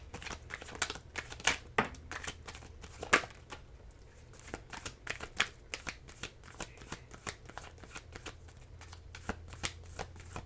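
Tarot deck being shuffled by hand up close, a long run of crisp riffling bursts and card slaps repeating in quick irregular rhythm against a quiet background.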